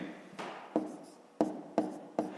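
Handwriting on paper during a fifth-grade maths exercise: a quiet scratch of pen strokes with four sharp taps as the pen lifts and lands, close and alone without talk.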